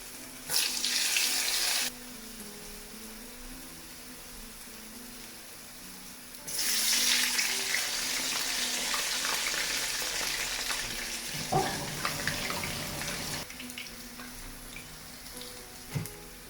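Urad dal vadas fry in hot oil over medium heat, a loud bubbling sizzle that surges in bursts and settles into a steady hiss, close by and alone.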